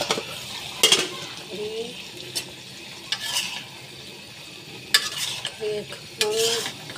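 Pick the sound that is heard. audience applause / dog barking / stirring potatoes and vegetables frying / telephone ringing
stirring potatoes and vegetables frying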